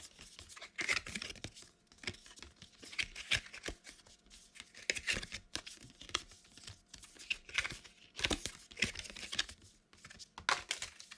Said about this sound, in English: let's listen to the sound of 2 cards